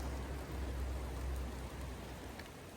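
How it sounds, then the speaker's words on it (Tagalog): Heavy rain falls on a mountainside in a dense, steady roar of broadband hiss that stays loud and continuous throughout, with no voices. "Ang lakas po kasi ng ulan."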